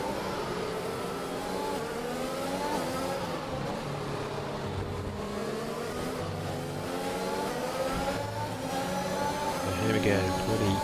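F1 2021 race cars run flat out around the Singapore street circuit, engines screaming at high revs with rising and falling pitch as gears change, loud and continuous beneath a commentator talking.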